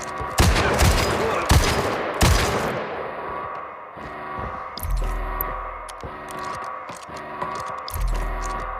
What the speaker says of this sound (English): Sending rounds downrange.